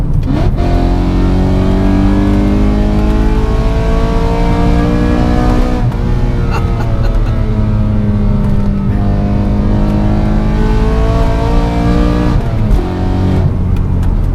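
A naturally aspirated BMW M3 engine revs hard and continuously while drifting, its loud harmonic wail rising and falling through repeated throttle blips, with other car engines close by and no talk.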